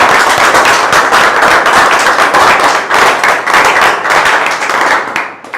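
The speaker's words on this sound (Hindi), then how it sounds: "तालियां बजाएं" An audience claps loudly and steadily at a direct selling event, a dense roar of many hands that continues throughout and tapers slightly at the end.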